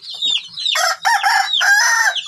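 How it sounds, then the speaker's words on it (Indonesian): A Chinese Brewok breed rooster crows in drawn-out bursts, mixed with clucking from nearby chickens, loud and close with no talking. "Ayam Brewok Cina"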